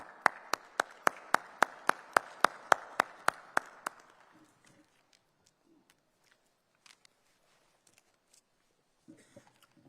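Single person's slow, evenly spaced handclaps at a SADC industrialisation investment conference, about a dozen crisp, near claps over four seconds, then near silence with faint scattered taps and rustles.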